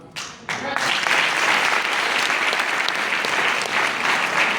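Loud, sustained applause from a seated audience at a network marketing meeting, rising sharply after a couple of opening claps and holding dense and even to the end, with faint voices underneath.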